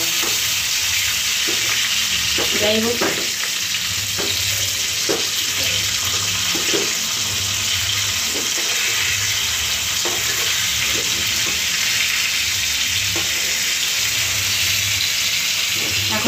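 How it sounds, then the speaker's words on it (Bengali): Fish fries in a pan with a continuous close sizzle and crackle. Occasional soft clinks and scrapes come through, and a voice briefly speaks over the frying. "তো মাছটা এখন একটু ভাজা হোক"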